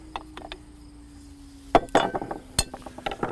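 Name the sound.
Phillips screwdriver unscrewing blower junction box cover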